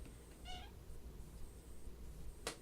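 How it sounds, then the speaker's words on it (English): An indoor cat at a door gives one short, quiet meow, followed a moment later by a brief sharp click in an otherwise hushed room. "My cat is currently staring at the door. Do you want out?"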